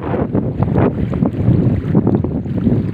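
Strong gusting wind roars and buffets the microphone continuously, loud and close, with no voices over it.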